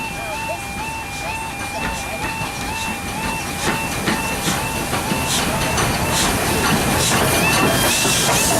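Two steam locomotives, a 7F and a 4MT double-heading at Sheringham West level crossing, pass by with a rising rumble and clattering wheels, while a crossing alarm wails in a steady repeating pattern and someone speaks briefly.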